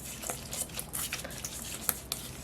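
A spoon stirring chopped blanched scallions in a bowl, the mix dressed with sesame oil and sesame seeds: soft, wet patter and squishy scraping, quiet and close, with no talk.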